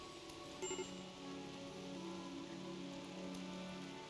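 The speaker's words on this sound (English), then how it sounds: "It's raining, so that helps us out." Rain falls in the video game RimWorld as a steady, even patter that continues without a break, with a faint layer of game music underneath.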